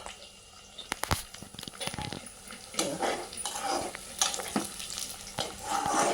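Onions frying in a pan with garlic about to go in, giving a soft crackling sizzle and stirring scrapes, fairly quiet and close, with a few sharp clicks.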